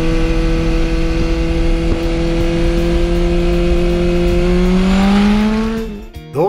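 A Kawasaki Zephyr or Honda CB400 Four motorcycle idles steadily, then revs with rising pitch as it rides off, loud and close, before the sound cuts off abruptly.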